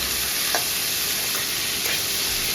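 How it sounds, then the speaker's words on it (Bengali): Vegetables including beans stir-fried in a pan for Bengali-style chowmein, giving a loud continuous sizzle with a couple of faint spatula scrapes, close up and with no voices. "সবজিটা একবার ভালো করে নাড়িয়ে নিচ্ছি"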